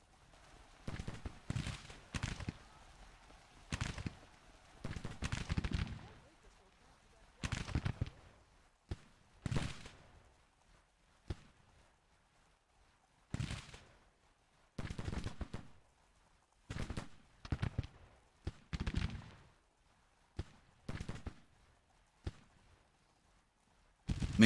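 Volleys of Civil War-era musket gunfire from Grand Tactician: The Civil War ring out in repeated bursts, some crackling in rapid succession and others spaced apart, loud and close with brief quiet gaps between.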